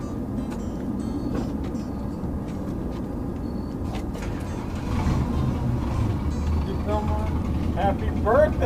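A 1965 Chrysler engine runs with a steady low rumble that grows heavier and louder partway through, with a voice briefly heard near the end.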